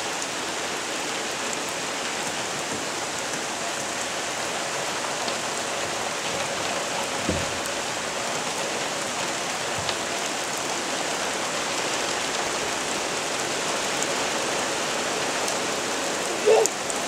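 Steady rainfall hisses evenly throughout, close and continuous, with a couple of faint thumps and no one speaking.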